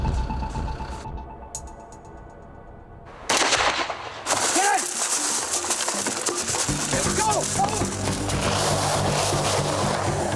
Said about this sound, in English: one of the Mostovian police officers accidentally fires his weapon.